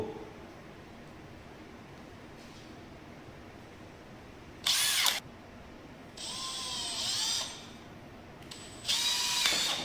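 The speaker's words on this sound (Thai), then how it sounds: "ก็เจาะที่สี่ห้าองศาอย่างนี้นะครับ" Short bursts of a power drill whirring as it bores a hole at 45 degrees into a four-inch pipe, three separate runs with pauses between, close and loud against a quiet background.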